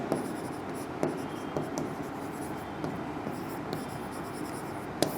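Marker or chalk writing on a classroom board, a continuous scratchy rubbing with occasional taps as strokes begin, heard close and steady for several seconds.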